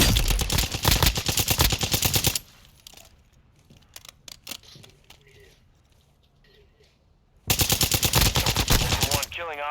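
Gunfire rattles in the Call of Duty DMZ mode, loud rapid automatic bursts up close, a quieter stretch of scattered shots and clicks, then another heavy burst.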